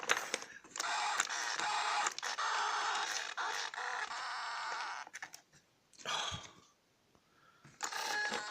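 A failing new Spektrum 9020 RC servo buzzes and grinds in long steady bursts broken by short pauses, then sputters unevenly with brief gaps before another burst near the end.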